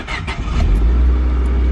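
A Honda Civic engine fires up right after a head gasket replacement and revs hard, a close, loud start that settles into a steady rumbling idle.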